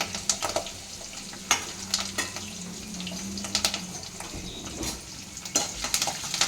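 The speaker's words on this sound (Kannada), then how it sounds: "ಒಂದು ಸ್ವಲ್ಪ ಫ್ರೈ ಆಗಲಿ." Curry leaves, garlic and cumin frying in oil for a potato and onion dosa side dish, a steady soft sizzle with intermittent clinks of a spoon stirring the pan, close and moderately quiet, no talking.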